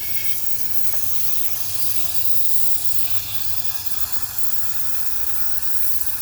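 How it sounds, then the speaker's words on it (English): Water pours steadily into a rock tumbler barrel holding agates, making a continuous hissing, splashing rush that stays even and close throughout, with no talking. "I'm gonna go ahead and fill this with water"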